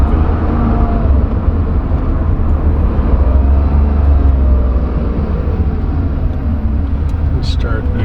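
A 1970 Porsche 911E Coupe pulls at about 70 mph in third gear, with a steady loud engine drone and road roar heard from inside the car throughout.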